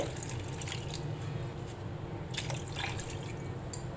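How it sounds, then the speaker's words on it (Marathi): Two glasses of water splash and trickle into a pot of raw mango pieces with a few brighter spatters over a steady wet background, fairly close. "यामध्ये मी दोन ग्लास पाणी घालते"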